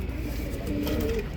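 A pigeon kept for breeding gives a brief, soft coo close by, set against a steady background hum, with no speech.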